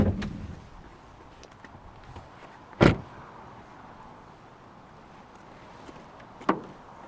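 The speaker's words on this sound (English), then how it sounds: "If I open the bonnet and just show you the Revo quickly." An Audi S3 8P 2.0 TFSI's bonnet is handled while being opened: a few sharp clunks and knocks ring out against quiet background, the loudest one near the middle and a lighter one near the end.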